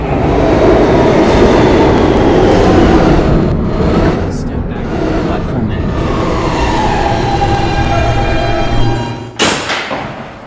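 A New York subway E train rumbles loudly and steadily on the track, with rhythmic thumps and clatter from the cars and a sharp burst of noise near the end.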